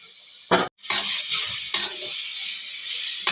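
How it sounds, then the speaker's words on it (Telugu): Beetroot frying in a hot pan, a close, steady sizzle broken by a few stirring scrapes and a brief silent gap near the start, no voices. "ఉంచుకున్న బీట్రూట్ ఇందులోనే వేసి ఫ్రై చేసేసుకుంటే సరిపోతుంది."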